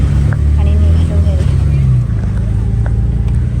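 An auto rickshaw carries riders away from a mall parking lot in light drizzle, its engine giving a steady low rumble and road noise throughout, with people talking faintly under the drone.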